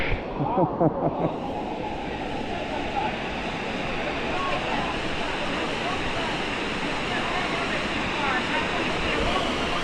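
Rushing water of Dunn's River Falls in Jamaica, a steady broad roar filling the whole stretch, with a brief burst of voices near the start.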